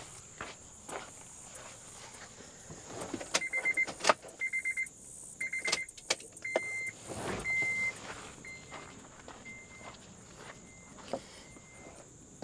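A Honda Element's fuel system is reprimed while chasing a cold-stall fault, bringing an electric buzzing whine in repeated short pulses alongside faint clicks and clunks, with steady background hiss and no speech.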